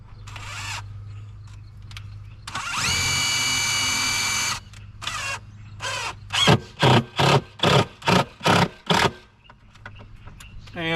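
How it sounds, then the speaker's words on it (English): A power drill whines through a wooden shelf, using a screw driven in reverse. One long steady run is followed by a string of short, evenly spaced bursts, close and loud, with a low background hum. "I'll drill through the majority of the shelf itself and maybe a little bit into the strong back"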